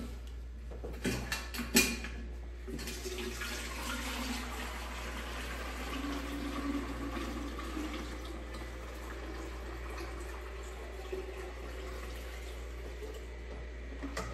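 Liquid pours and trickles steadily into a bucket as milk is strained for cheesemaking, with a continuous watery rush and a few sharp knocks near the start.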